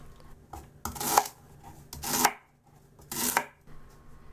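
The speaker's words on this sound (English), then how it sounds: "But first I'm going to cut these up into pieces just so it'll be easier for me to cut." A knife chops lemongrass stalks into pieces on a cutting board, three distinct bursts of cutting strokes spaced about a second apart, close and fairly quiet with soft pauses between.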